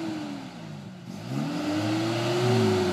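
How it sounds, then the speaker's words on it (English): Toyota 4Runner stuck off-road, its engine revving and rising in pitch over a few seconds, mid-distance and moderately loud, with no talk. "Dave, you need to hit the gas. Try the throttle."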